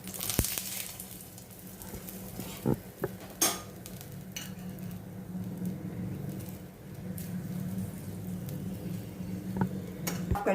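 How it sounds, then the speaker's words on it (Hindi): An aloo paratha fries in oil on a pan with a steady low sizzle, broken by a few sharp clicks and scrapes of a utensil against the metal, and no talking. "ऑयल डाल के अच्छी तरह से मैं सेकूँगी"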